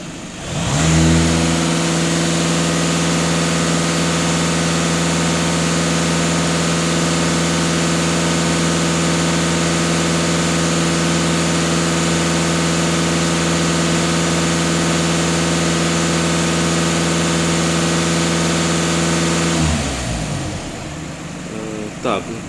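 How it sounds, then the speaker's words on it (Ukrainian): A VW Passat TDI diesel engine, warmed up with its soot filter, is held steadily at 2500 rpm. It gives a loud, constant drone for about twenty seconds before dropping back toward idle. "Зараз на 0 даю 2500 обертів."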